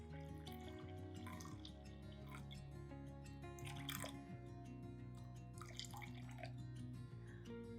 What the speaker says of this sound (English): we're gonna add our water. So this recipe calls for 240 grams of water.